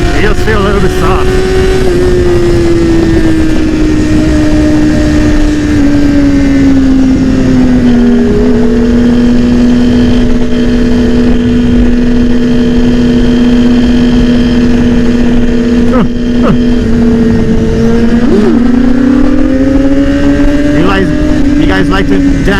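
A BMW S1000RR motorcycle engine drones steadily at cruising revs while riding, with wind rush and a few pitch shifts as the throttle changes, loud and close throughout, with talk over it.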